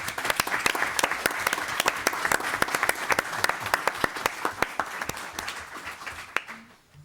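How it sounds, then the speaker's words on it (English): A round of applause at a school board meeting, many hands clapping steadily at moderate distance for several seconds before tapering off, with a brief voice at the very end. "About a round of applause?"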